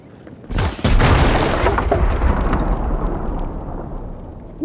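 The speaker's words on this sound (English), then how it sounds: "that was a big explosion" A big explosion in the fantasy video game Avowed erupts with a sharp crack, then a heavy, sustained rumbling boom that slowly fades, loud and close with no talk over it.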